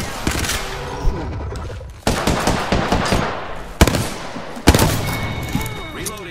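Rapid automatic gunfire from Apex Legends rattles in repeated loud bursts, with single heavy shots and impacts breaking through a steady din of combat noise.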